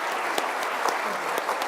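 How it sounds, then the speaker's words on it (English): Audience at a choral society concert applauding its board members, a steady wash of clapping hands at moderate distance, with no voices over it. "Let's give them a round of applause for their hard work."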